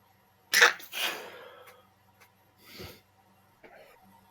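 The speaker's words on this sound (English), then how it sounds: "I'm on a sneezing fit" A person in a sneezing fit lets out a sharp, close sneeze followed quickly by a second. Softer sniffs and breaths come after in an otherwise quiet room.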